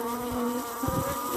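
Honey bees drone loudly and close around a hive cover used as a bee escape board, a steady buzzing hum with a few louder passes near the end.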